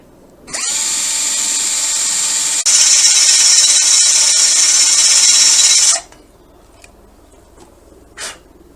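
A power drill grinds through hard steel on a Harley Sport Glide motorcycle, a loud steady whine lasting several seconds, rising in intensity midway before cutting off, followed by a faint brief scrape.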